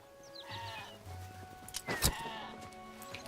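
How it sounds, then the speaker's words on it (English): Sheep in the Hytale video game bleat a few times, fairly close and clear, with a louder bleat near the middle over soft background game sounds. "I'm going to see if I can shear some sheep."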